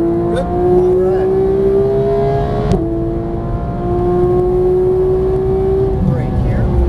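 A GT3 race car engine drones loudly at full throttle, its steady high-pitched note climbing gradually, dipping briefly at a gear change, then rising again, with a voice speaking over it.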